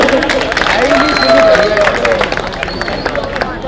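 Crowd at a political rally in Delhi claps and murmurs, a steady mass of hand claps mixed with hubbub and a few voices rising over it, fairly close and loud throughout.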